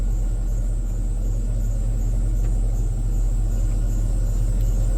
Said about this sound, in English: we're going to do a little test drive in Crossbreed